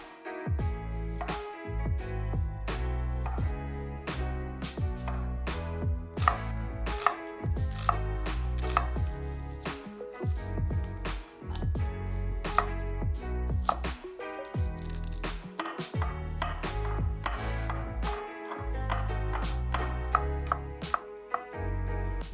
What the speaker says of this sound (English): So I want to maybe cut this, slice this down the middle, and then I'll have these like quarter moons